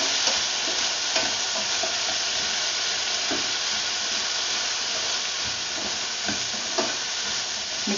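Okra with dried shrimp and soy sauce stir-fries in a hot pan, giving a dense, continuous sizzle and hiss with occasional soft scrapes and clicks of stirring, close and steady throughout, no voices.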